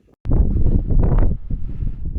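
Strong wind at an abandoned mine buffets the microphone in a rough, gusting roar that starts abruptly after a brief quiet and rumbles on without speech.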